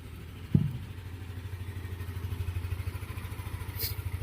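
Yamaha Nmax scooter engine cranked and started, with a sharp thump at the start, then a steady low putter of the single-cylinder engine idling close by, with a brief high hiss near the end.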